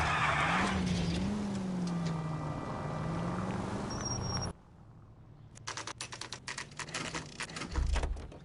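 Car in the video game L.A. Noire pulls away from a driveway with tires skidding, first under game music and a low engine drone, then a burst of loud, crackling skids and a deep engine rumble near the end.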